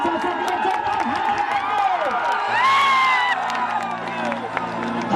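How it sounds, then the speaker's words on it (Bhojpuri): A crowd at a stage show in Arrah applauds and cheers, with clapping, whoops and shouting under loud music and voices, filling the whole stretch at a steady high level. "तो मैं चाहता हूं कि जोरदार ताली बाजे हमारे चाचा के लिए।"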